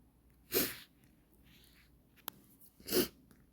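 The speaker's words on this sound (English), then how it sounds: "Sorry, I just sneezed" Two quick, sharp sneezes spaced a couple of seconds apart, with a faint click and soft breathing in between, fairly close and otherwise quiet.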